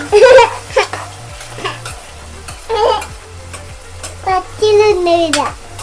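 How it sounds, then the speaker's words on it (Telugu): Prawn curry ingredients sizzle and fry in a pan while being stirred to golden, with clear scraping strokes repeating every second or so; a low steady hum runs underneath and no one speaks. "ఇదంతా గోల్డ్ కలర్ వచ్చేంత వరకు మనము వేయించుకోవాలి"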